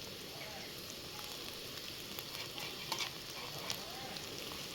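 Garlic added to onions frying in oil with salt and turmeric sizzles steadily in a pan, with occasional stirring scrapes and small pops, fairly soft and continuous with no talking.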